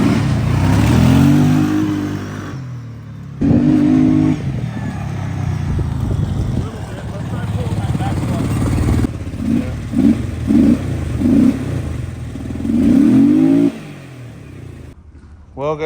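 A Kawasaki KFX700 ATV engine runs on both cylinders and revs up in several bursts between idle stretches, loud and close, with a voice speaking at times over the engine.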